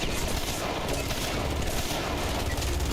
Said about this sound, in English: This is a burst fire?